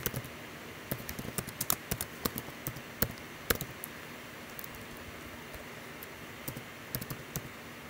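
A name is typed on a computer keyboard, producing quick irregular clusters of soft key taps in a quiet room with a faint steady hum underneath and no talking.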